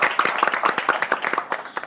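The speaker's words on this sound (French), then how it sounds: "Bravo pour toi, bravo vous. Applaudissez." Game-show audience applauding a team after a point is awarded, a dense patter of hand claps with sharp individual peaks, sustained and fairly close.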